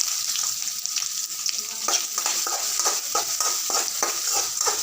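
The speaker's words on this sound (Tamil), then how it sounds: "வெங்காயம் நல்லா செவக்க மட்டும் கிளறணும்." Onions fry in hot oil in a pan while being stirred, giving a steady bright sizzle with repeated scraping strokes of the spatula in an irregular rhythm, close and fairly loud, with no talking.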